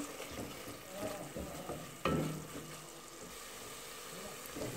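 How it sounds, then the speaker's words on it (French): Sardines and sweet peppers simmering in a pan, a soft continuous sizzle and bubble with a sharp clatter of a utensil midway and faint scraping around it, fairly quiet overall. "Je laisse mijoter quelques minutes, environ 2 minutes."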